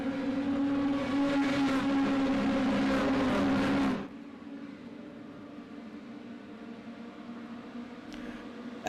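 Race cars roaring four wide at the start of the Thomas 250, a loud dense engine blare that drops abruptly after four seconds to a steadier, more distant drone of the field.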